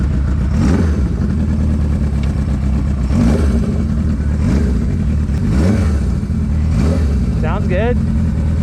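A Suzuki GS750 cafe racer motorcycle with freshly rebuilt carbs revs steadily, its engine holding a loud, continuous rumble broken by several rising throttle blips, with a voice talking over it at times.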